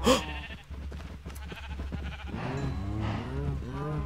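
Sheep in the Minecraft video game bleat in a run of wavering calls close by, rising over a steady game background, with a voice talking around them.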